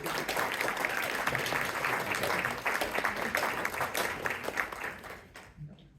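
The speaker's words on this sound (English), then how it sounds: "Let's give all of our employees, our tenured employees and our new employees, another round of applause." A crowd at a Merriam, Kansas city council meeting applauds employees in a dense, steady round of clapping from across the room, tapering off and stopping near the end.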